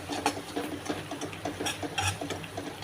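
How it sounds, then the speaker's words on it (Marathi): Spoon stirring peanut powder into a thick masala okra gravy in a pan, quick irregular scraping and soft clinking strokes, close and steady throughout. "1 चमचा शेंगदाण्याचा कूट मिक्स करून घ्यायचं"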